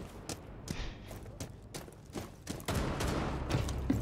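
Video game gunfire snaps off in quick, scattered bursts of shots, some near and some softer, before a denser crackle of fire fills the last second and a half, with no one talking.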